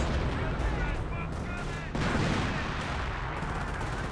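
Infantry gunfire from Grenadier squads in Company of Heroes, with rapid overlapping rifle and machine gun bursts and a sharp crack near the middle, dense and fairly close.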